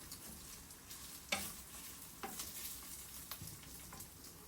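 Minced pork for Thai basil pork rice stir-fries in a pan, a faint sizzle under scattered spatula scrapes and tosses, without any voice.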